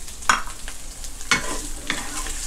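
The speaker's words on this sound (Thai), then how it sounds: "ผัดพริกกับให้หอมนะครับ เราใส่นี่หมูกรอบใส่ลงไปเลย" Crispy pork tossed into a pan with chili and stir-fried, giving three distinct bursts of scraping and clattering stir strokes about a second apart over a steady, soft sizzle.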